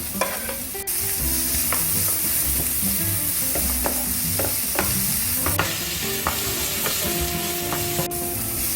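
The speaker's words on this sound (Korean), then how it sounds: "양파가 반쯤 투명해졌다 싶으면 썰어놓은 재료를 다 넣고" Onions and chopped vegetables for pineapple fried rice stir-fried in a hot pan, a steady loud sizzle broken by repeated scraping and clanking of a spatula against the metal, with no voices.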